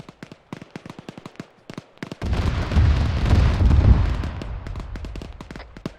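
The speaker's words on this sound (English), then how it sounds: "Is that the fucking Apache? Because I hear it firing" Apache helicopter fire in ArmA 3 comes as a sustained rumbling burst of heavy rounds, surrounded by scattered sharp distant cracks of gunfire before and after.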